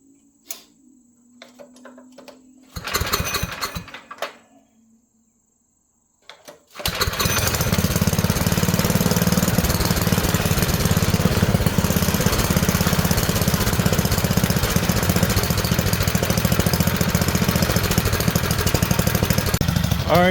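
An old Murray Explorer go-kart fitted with a new torque converter belt: a few knocks and a short pull are heard, then after a pause the small engine catches and runs loud and steady, close by, until the end.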